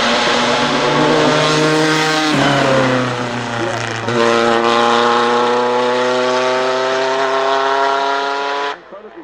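A car driven at the Goodwood Festival of Speed on a damp surface: a loud, sustained, high-revving engine with rising and falling pitch through gear changes, close and dominant before cutting off abruptly, with commentary voices under it.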